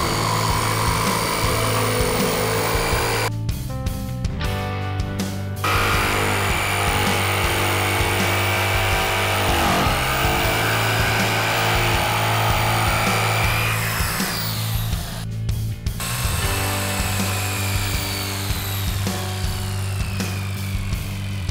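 A corded DeWalt jigsaw runs continuously, loud and close, with a steady motor drone and a rattling blade, its pitch shifting a few times as the cut loads and eases.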